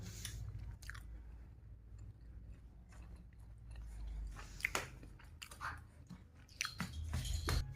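A child chews a sandwich close up, soft moist bites and crunchy chews in an irregular rhythm, quiet overall.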